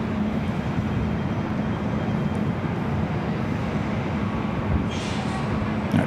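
Philippine Airlines heavy jet on its takeoff roll from runway 24 left at LAX, a steady loud broadband engine roar that holds constant throughout with no voices.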